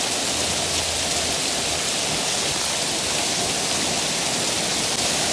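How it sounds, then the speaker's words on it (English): Large hail pelting down during a rare winter storm in Los Angeles, a dense, steady roar of impacts spread across the whole clip, loud and unbroken with no voices. "Oh, that's big hail."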